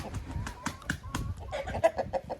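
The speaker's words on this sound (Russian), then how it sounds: "Здесь живут курочки Амираукана." Young Araucana hens, seven months old, clucking in a farm coop alongside turkeys, with several short overlapping clucks and calls at close range in a busy, uneven rhythm.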